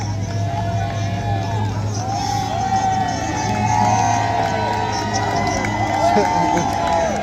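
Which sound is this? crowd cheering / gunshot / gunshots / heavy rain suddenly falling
crowd cheering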